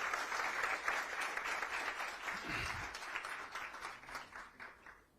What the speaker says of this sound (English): You are clapping for the armed forces, not for me.